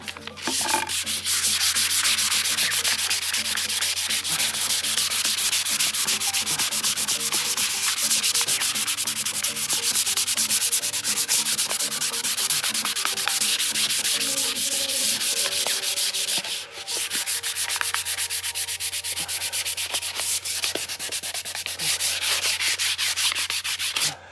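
Steady, continuous rubbing of 180-grit sandpaper over wood cladding inside a van sauna build, close and loud with an even scratchy texture and no talk.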